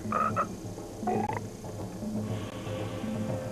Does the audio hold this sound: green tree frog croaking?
yes